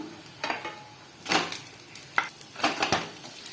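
A breakfast dish is flipped and fried in a pan, giving a handful of scraping turns and light clinks of a utensil over a low sizzle, with no voices.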